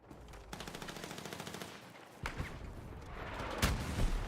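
Gunfire in the video game Battlefield 6, a fast automatic burst rattling for about two seconds, then scattered loud single shots and heavy impacts over dense battle noise.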